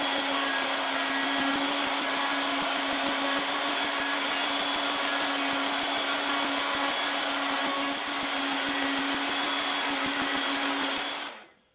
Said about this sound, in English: now let's put a round over on all the sharp corners